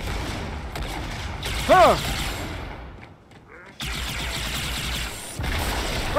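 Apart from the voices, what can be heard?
plasma rifle firing in Halo 2: Anniversary video game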